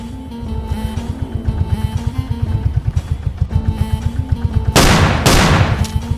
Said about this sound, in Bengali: জঙ্গল থেকে একটা গুলির আওয়াজ এলো না?